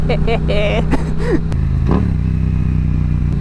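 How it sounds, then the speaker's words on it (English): A Yamaha MT-07 motorcycle engine burbles close by, its revs dropping with a downshift before settling into a steady idle rumble. "Oh, that downshift."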